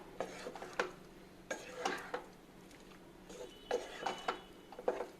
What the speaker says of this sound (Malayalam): ഇതിൻ്റെ അകത്തോട്ട് നമ്മൾ നേരത്തെ കുക്ക് ചെയ്ത് വെച്ചേക്കുന്ന ആ പാസ്ത ഇട്ട് കൊടുക്കാം. എന്നിട്ട് നന്നായിട്ടൊന്ന് മിക്സ് ചെയ്യാം.